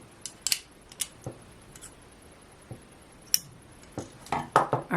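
Scissors snip sewing thread after a back stitch while a doll quilt top is hand-sewn, giving a few faint, sharp clicks spread out over quiet, with a small cluster of snips near the end.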